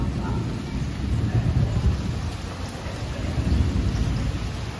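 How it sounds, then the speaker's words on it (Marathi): Monsoon rain falls heavily in Mumbai with rumbling thunder, a dense steady roar of rain on surfaces close by with low thunder rolling underneath. "आणि आपला इकडे आहे पाऊस."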